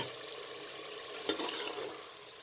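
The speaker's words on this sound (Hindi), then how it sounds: "अब आपने इसको अच्छे तरीके से भून लेना है कि पानी तमाम खुश्क हो जाए।" Tinda gourds and mutton fry in oil while being stirred, a steady sizzle with a single sharp scrape of the spoon partway through, close and fairly quiet.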